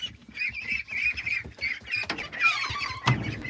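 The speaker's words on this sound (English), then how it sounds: "So there's actually two breeds of ducks here." Appleyard ducks quack and honk nearby in a busy flock, mixed with buff Orpingtons. The calls come in overlapping, nasal bursts over a little background shuffling.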